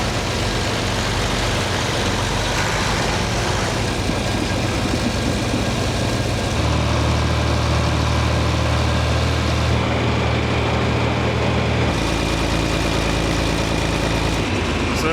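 An old John Deere 4020 tractor engine idles steadily and loudly at close range for the whole stretch, a deep continuous rumble whose low tone shifts slightly partway through, at a farm-community plow day in river-bottom fields.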